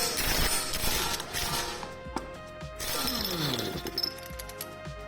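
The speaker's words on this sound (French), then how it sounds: "déposez l'écrou de bout de transmission." A 36 mm socket removes a driveshaft end nut while a front wheel bearing is replaced on a Toyota KDJ120. Loud, close mechanical rattling and grinding with whining tones runs almost continuously, easing briefly midway, with no talk.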